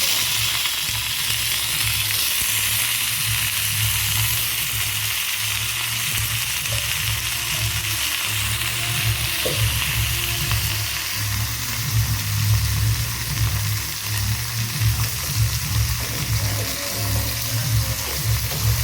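Eggplant pieces frying in hot oil with mustard seeds and curry leaves, a steady close sizzle with soft stirring and scraping throughout, no voices.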